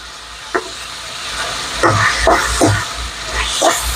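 Curry leaves frying in a pan for a chutney, giving soft sizzling with a few separate scraping and stirring strokes, close and fairly quiet with no talk.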